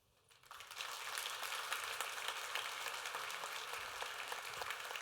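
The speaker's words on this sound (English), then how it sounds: "one more round of applause. Put your hands together for Scott Schenker." Audience applause at the close of a presentation at a summit: a quiet start, then a sudden, sustained wash of many hands clapping at an even level.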